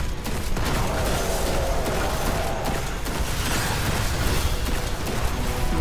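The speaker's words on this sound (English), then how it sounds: "Keep shooting." Rapid, sustained gunfire from weapons in the sci-fi shooter game Destiny 2, loud and dense throughout with overlapping shots and booming impacts, no talking.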